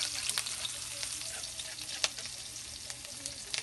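Onion sizzles as it sautés in rendered pork fat, a continuous close crackling fry with occasional stirring scrapes and one sharper clink, no voices.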